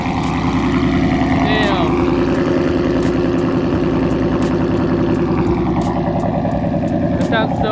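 A loud supercharged Toyota GT86 fitted with a UEL Subaru rumble exhaust drones steadily up close for several seconds, with a brief voice heard over the engine.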